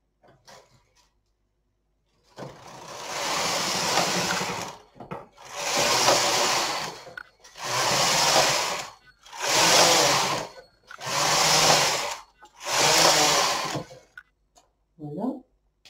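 A Brother electronic knitting machine knits rows of waste yarn: six loud, even carriage passes, each a rasping, whirring sweep of about a second and a half, separated by brief pauses.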